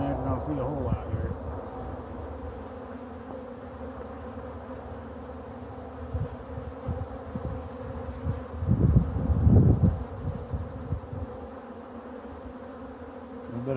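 Honey bees buzz around an opened hive box, a continuous close drone of many insects that swells in louder bursts near the middle, with faint handling noises.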